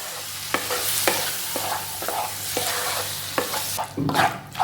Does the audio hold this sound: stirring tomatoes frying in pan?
yes